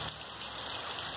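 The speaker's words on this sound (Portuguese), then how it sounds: "primeira chuva pequena" Light first rain patters softly on surfaces outdoors, a faint, even hiss of small drops over a brief moment.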